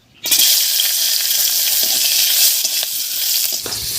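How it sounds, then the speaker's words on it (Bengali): Green chillies, slit down the middle, sizzle steadily in leftover fish-frying oil, a loud continuous hiss that starts abruptly and runs unbroken, with occasional faint stirring clicks. "মাছ ভাজার এই তেলের মধ্যে কয়েকটা কাঁচা লঙ্কা ভেজে নেব"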